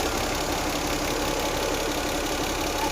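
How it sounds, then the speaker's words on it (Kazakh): A Toyota 2JZ engine swapped into a Gazelle van idles with a steady, even hum and a constant mid-range drone, close and uninterrupted with no talking. "Мотор тыныш істеп тұр ғой"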